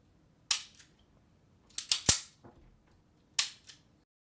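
Pistol dry-fire practice with a laser bullet: sharp metallic clicks of the trigger and slide being racked after each shot, several crisp snaps in short clusters separated by quiet pauses, close, with no speech.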